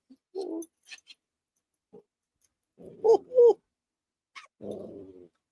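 A dog whimpers and whines in short, separate bursts, some rising into higher squeaky cries, close by with quiet pauses between.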